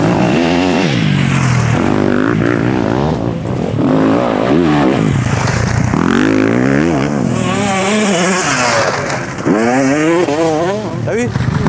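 A motorcycle revs and accelerates on a riding-course track during a piloting training session in Thouars, its engine roaring loud and close for the whole stretch with rising and falling pitch, while a coach talks over it.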